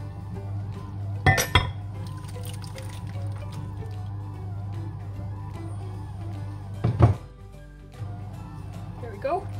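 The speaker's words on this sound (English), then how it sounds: "I will put this into a different bowl while it's cooling down." Cooked meat is scraped and tipped into another bowl in a home kitchen, with two sharp clinks of utensil against dish set apart by several seconds of quieter background. A voice talks faintly underneath.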